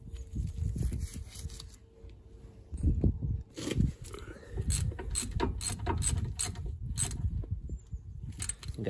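Ratchet tightening the front brake caliper bolts on a Volvo V70, with repeated close clicking strokes and metallic mechanism noise in short bursts, along with low handling sounds.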